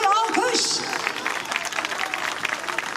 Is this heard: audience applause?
yes